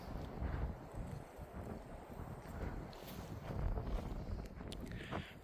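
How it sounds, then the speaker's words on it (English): Steady wind gusting across an open canyon quarry among red rock walls, a continuous broad rushing roar with microphone buffeting that rises and falls throughout. "The wind's starting to pick up."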